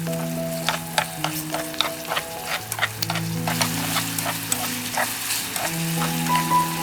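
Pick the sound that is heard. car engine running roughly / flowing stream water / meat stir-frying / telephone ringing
meat stir-frying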